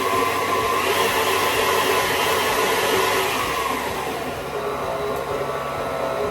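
A stand mixer with a dough hook works Hawaiian roll dough, a steady motor whir with a grinding, churning texture that eases slightly in loudness partway through.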